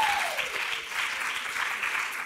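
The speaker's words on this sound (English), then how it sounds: "give her a round of applause." Brief audience applause at a health conference, a room of hands clapping steadily and fairly close throughout.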